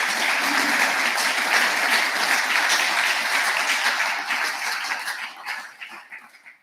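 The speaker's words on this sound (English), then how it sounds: "I think we could give her a round of applause, please." Applause from a graduation conferring ceremony audience honouring a musician, steady dense clapping from a large crowd that holds for several seconds and then thins and fades out.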